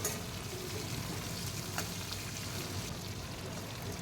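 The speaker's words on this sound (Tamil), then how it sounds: "இப்போது கறி லீவ்ஸ் போட்டுக்கிறேன்." Curry leaves hit hot oil for poori masala, giving a steady close frying sizzle with faint crackles throughout.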